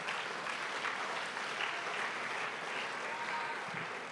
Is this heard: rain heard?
no